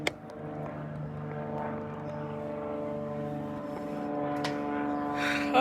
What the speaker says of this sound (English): That's a loud little plane.